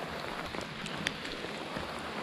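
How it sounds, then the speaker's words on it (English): Steady hiss of rain pattering on surfaces all around on the Appalachian Trail, dense and even, with a few louder drops and no voices. "It's really raining."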